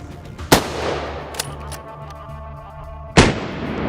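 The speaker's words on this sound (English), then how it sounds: "It's a good shot, but still he's made a run for it." A rifle fires at a wild boar during a hunt: two loud, sharp outdoor shots about two and a half seconds apart, each followed by a short echoing decay, with a faint crack between them.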